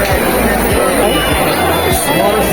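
A noisy, dense crowd at a Ganesh Puja fair in Deogarh, a constant loud babble of many voices close around, with scattered louder shouts.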